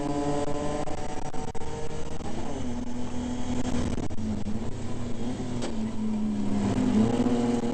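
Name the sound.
BMW E30 race car engine, onboard during race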